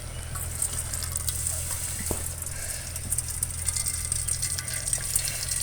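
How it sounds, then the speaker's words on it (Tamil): Water poured or running from a tap while cooking ivy gourd greens for a mashed greens dish, a steady faint splashing gush over a low background hum, with no talking. "தண்ணி கொஞ்சம் இழுத்துக்குவோம்"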